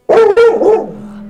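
A dog right beside a microphone lets out two loud, close barks in quick succession, the second trailing into a short whine, during a game session with no talk over it.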